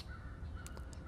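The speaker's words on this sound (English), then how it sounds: "I hear some crows in the background and chickadees." Crows cawing in a wild woodland setting near vernal pools, a few short calls rising over steady low background noise at moderate distance.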